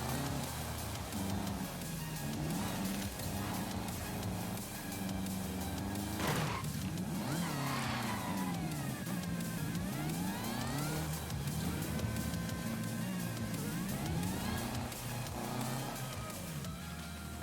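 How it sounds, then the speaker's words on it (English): Car engines in a racing video game rev and rise in pitch through repeated gear changes, a sustained close whine with sweeping upshifts, one car briefly passing, and no talking. "the engines on these cars have a very unique sound"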